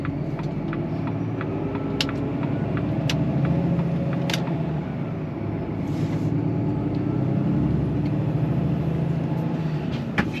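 A Volvo FH540 truck, carrying some load on a rainy day in Normandy, pulls away with a steady low engine rumble and road noise heard from the cab, broken by a few faint clicks.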